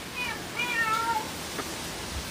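A kitten gives a few thin, high meows in quick succession, close and fairly soft against faint room noise.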